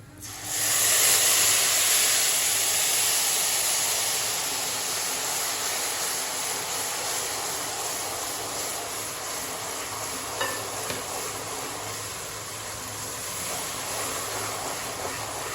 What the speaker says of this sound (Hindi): अब हम इसमें शीरा ऐड करेंगे।